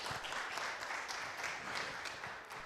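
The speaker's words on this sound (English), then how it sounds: "Please clap for yourselves." Audience at a hybrid pre-COP30 panel event clapping after a discussion, a short, steady burst of moderate applause with no talk over it.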